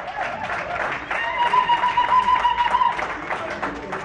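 Dense crowd applause and cheering at a ceremony, loud and steady throughout, with a sustained shrill whistle rising above the clapping in the middle.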